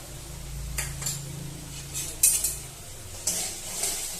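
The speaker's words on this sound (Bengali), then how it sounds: "ভালোভাবে মিশিয়ে নিচ্ছি" A spoon stirs salt and turmeric into a dish in a pan, with soft scraping strokes and a few light clinks against the metal, near and fairly quiet over a faint low hum.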